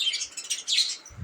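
Pet budgerigars chirp in quick high bursts, several overlapping tweets close by, with a faint low thump at the end.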